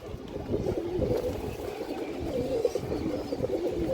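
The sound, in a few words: large Giribaj high-flyer pigeon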